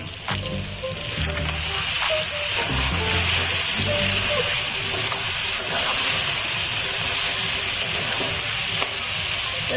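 Chopped tomatoes fry with chicken pieces for a chicken curry and are stirred in the pot. A loud, steady sizzle runs under low clunks of the spoon and pot in the first few seconds.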